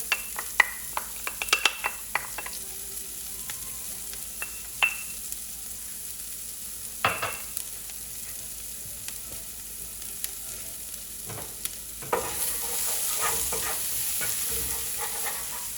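Fresh shallots frying in a pan, a soft steady sizzle with scattered stirring clicks and scrapes, and the sizzle grows louder and fuller near the end. No voices.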